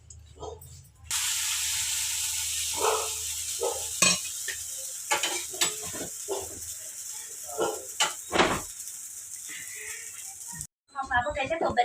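Dosa batter sizzling and frying on a hot pan in a home kitchen, a steady hiss with scattered scraping and clinking of utensils, a voice briefly heard near the end.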